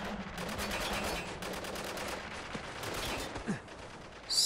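Rapid automatic AK rifle fire in the video game Spec Ops: The Line, a dense string of sharp shots in sustained bursts, loud and close, with a brief pause near the end.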